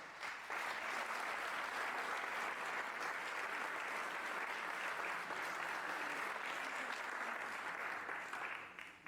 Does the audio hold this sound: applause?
yes